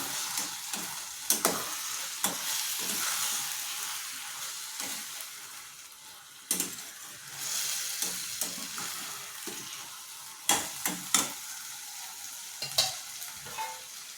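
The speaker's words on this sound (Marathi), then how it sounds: "आता कोथिंबीर आणि मेथीची चटणीला तेल सुटत नाही तोपर्यंत आपण असं छानसे वाफून घेऊया" Coriander and fenugreek chutney sizzles and fries in oil in a pan, a steady crackling hiss broken by repeated sharp scrapes and clatters of stirring, close and moderately loud with no talking.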